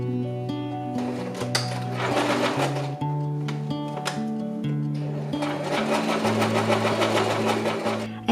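A sewing machine stitches closed a small gap in a knit dress, a steady rapid mechanical whir with a rhythmic chatter that carries on continuously and close up.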